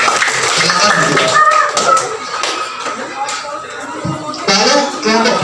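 A classroom of students claps for the first group in a teaching session, with scattered, uneven applause close by, mixed with children's chatter and voices talking throughout.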